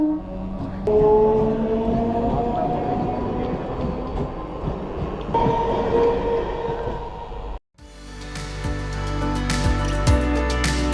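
A train approaches a railway level crossing on a road in West Bengal as the gate closes. Sustained tonal ringing and rail rumble give way after a sudden break to loud, clattering train noise close by.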